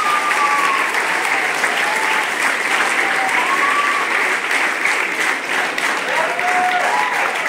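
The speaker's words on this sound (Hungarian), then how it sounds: "tapsoljuk meg mindenki" An audience applauds a children's choir at a choral meeting in a concert hall, steady loud clapping filling the room with a few faint voices underneath.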